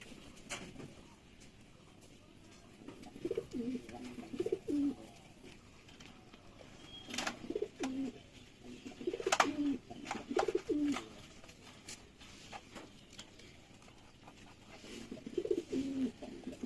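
Pigeons coo in soft, repeated low phrases at several points, near and moderately loud over a quiet room background; a few brief clicks and knocks come between the calls, with no talking.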